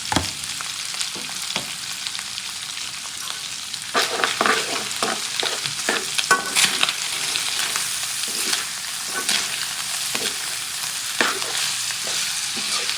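Bicol Express ingredients sizzle in a hot pan, a steady crackling fry overlaid with frequent irregular scrapes and knocks of a utensil stirring, close by and moderately loud, with no speech.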